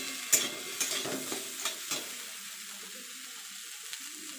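Food fries in a pan over a medium flame while being stirred: several sharp scraping strokes of the spatula over a soft sizzle, then the sizzle continues quietly on its own.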